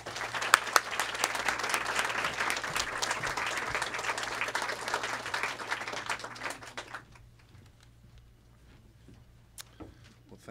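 An audience greets a speaker at a book talk with dense, sustained clapping that fills the room for several seconds, then thins to scattered claps and quiet.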